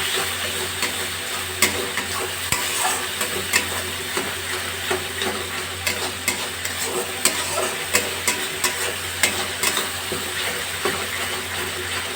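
Spice masala of cumin and coriander powder frying in oil, a dense continuous sizzle with regular ticking scrapes of a spoon stirring against the pan, close by and without talk.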